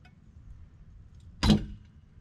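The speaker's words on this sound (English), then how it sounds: "That's our chain shifting on the rock over there." A composite shift link chain shifting on a rock under tensile load, a single sudden sharp clank against a low rumbling background.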